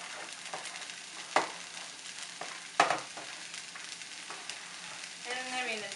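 Parsnips, carrots and other root vegetables fry in a pan at a camp cookout, giving a soft steady sizzle with a couple of sharp clacks from stirring.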